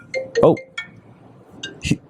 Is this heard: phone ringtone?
yes